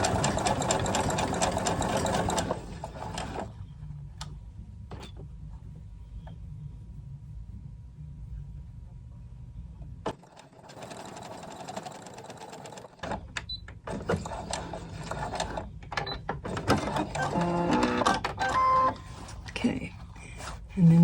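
A sewing machine stitches a doll jumper from a Simplicity pattern for an 18-inch doll, running in steady close bursts separated by short pauses, with quiet talk in between.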